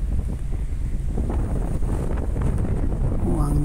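Strong wind blowing across a Taiwanese island, a steady loud rush of gusts buffeting the microphone with low rumbling throughout, and a voice briefly appearing at the end.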